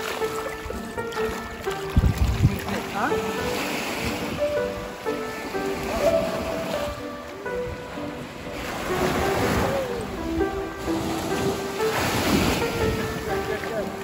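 Ocean waves surging and washing in repeated swells under steady wind buffeting the microphone, moderately loud with soft voices talking over it.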